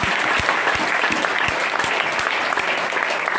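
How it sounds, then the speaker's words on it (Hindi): An indoor audience at a business meeting claps steadily and loudly for several seconds, a dense, even wash of applause with no voices over it. "जोरदार ताली होना चाहिए"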